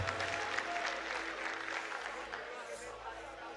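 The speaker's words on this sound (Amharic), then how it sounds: "አጨብጭቡና ቁጭ በሉ።" A church congregation claps together during a service, a fairly faint, continuous patter of applause with a few voices mixed in, tapering slightly toward the end.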